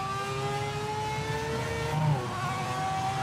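A race car engine in the Project Motor Racing video game, a steady high-pitched whine holding one tone with a slight revving lift near the end, alone and fairly loud.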